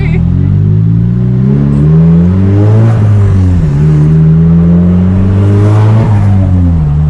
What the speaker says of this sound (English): Oh, he heard the turbo.